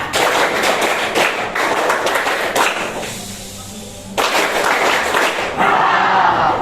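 A classroom of students clapping together in combined patterns, with bursts of sharp, rhythmic group claps broken by a brief quieter pause before the clapping resumes loudly.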